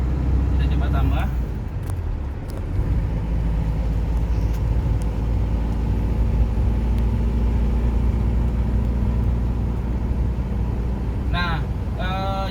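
A 2004 Isuzu Panther LS with manual transmission drives along an asphalt road at about 60 km/h. Steady low engine and road rumble fills the whole stretch, with brief voices near the start and end.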